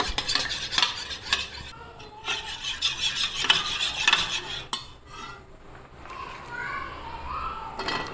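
Eggs are mixed with crushed Lays chips, onion and green chilli in a bowl, with rapid clinking and scraping of a spoon on the dish. Faint voices can be heard in the background.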